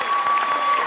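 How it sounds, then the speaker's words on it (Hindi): A studio audience on a Hindi television family game show bursts into loud, sustained applause after a correct answer, a dense wash of clapping close to the microphone that holds steady throughout. "जोरदार तालियां।"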